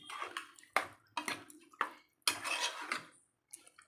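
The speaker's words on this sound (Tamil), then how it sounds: "தண்ணி ஊற்றி அதை நல்லா இப்படி கலந்து விட்டுறணும்." Water poured over chopped vegetables in a pot of vegetable kurma, then stirred, giving a run of clattering spoon-and-pot knocks and splashy bursts with brief pauses, fairly close and moderately loud.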